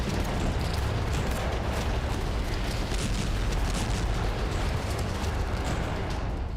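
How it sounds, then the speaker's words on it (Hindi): Rockets fired by Hezbollah and explosions in northern Israel, captured in news footage: a loud, continuous broadband roar with no pauses or distinct separate blasts, steady throughout. "उत्तरी इजराइल में हिजबुल्लाह की तरफ से कई रॉकेट दागे गए।"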